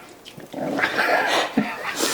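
A dog vocalizing up close indoors, a short whiny, growly run of sounds with a sharp yelp near the end, while someone is fed off-camera.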